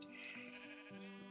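Minecraft sheep bleating, a single short wavering bleat with a quavering, pulsing tone, close and clear with nothing else around it.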